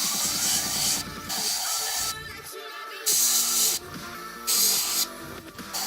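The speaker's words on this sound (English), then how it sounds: "Okay, this is just air." An airbrush sprays just air while painting a model, soft hissing bursts that come and go in several separate blasts over mechanical background noise.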